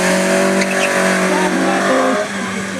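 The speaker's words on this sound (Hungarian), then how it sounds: "Most pedig narancsárga feketére festett Toyota Starletet látunk." Orange and black Toyota Starlet racing through a slalom course at a car skill competition, engine revving steadily with brief tire noise, heard under continuous commentary.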